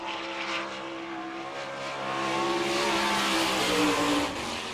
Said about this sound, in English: Here comes Mike Hudson out of turn number 4